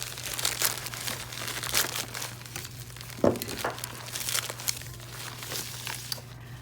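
Crinkling and crackling of a tightly packed mystery order of nail products being unwrapped at a salon, a steady run of close plastic rustles with a sharper crunch midway, steady low hum underneath.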